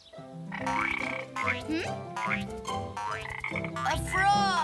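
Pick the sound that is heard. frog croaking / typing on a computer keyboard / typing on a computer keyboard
frog croaking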